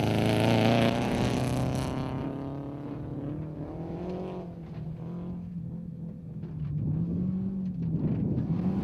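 A non-turbo Subaru Impreza rally car engine roars loudly, revving up and down through gear changes as the car drives past, with no voices, at the Icelandic Rally Championship in Skagafjordur.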